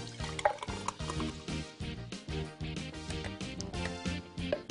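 A blended smoothie is poured from a smoothie maker jug into a glass, a soft, quiet liquid pour heard alone over a few seconds, mixed with faint background tones.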